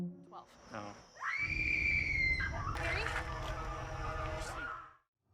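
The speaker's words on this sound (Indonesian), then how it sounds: "mendengar suara teriakan dari seorang wanita" A woman in a zombie-outbreak story lets out a loud, sustained high-pitched scream lasting about a second, followed by a burst of noisy commotion and shouting.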